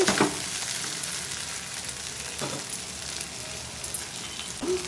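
Sliced okra fries in a pan for bendakaya vepudu, giving a steady, close sizzle and crackle of hot oil with occasional stirring scrapes and no voices over it.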